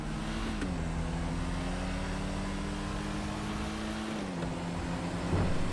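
Gear shifts in a GTA V mod driving scene, a sustained engine drone whose pitch dips at each change, with a clear shift near the start and another toward the end, and no voices.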